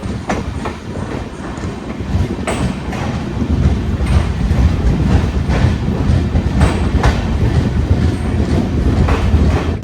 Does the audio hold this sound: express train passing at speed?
yes